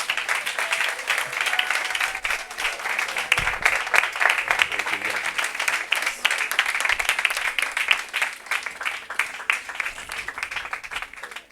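A church congregation claps and applauds at a revival service, a dense, continuous crackle of many hands that holds steady and fairly loud throughout, with faint voices mixed underneath.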